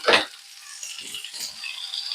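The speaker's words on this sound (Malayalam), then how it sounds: "ഇനി അതിലേക്ക് കട്ട് ചെയ്ത് വെച്ച കിഴങ്ങ് ഇട്ട് കൊടുക്കുകയാണ്" Cut potatoes dropped into onions frying in a pan for Kerala-style potato mezhukkupuratti, a sharp sizzling burst at the start that settles into a quieter, uneven crackle.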